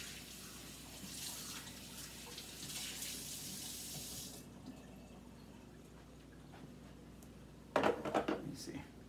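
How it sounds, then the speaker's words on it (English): Hot water runs from a tap to warm up coffee cups for espresso. A steady hiss of flowing water is heard first, then a quieter stretch, then a brief splash near the end. "let me warm up the cups a little bit with hot water"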